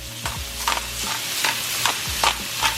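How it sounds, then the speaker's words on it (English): Chicken pieces brown in a hot pan for paella, sizzling steadily while a utensil scrapes and turns them in repeated stirring strokes, close and clear with no talking. "Now my chicken is still browning."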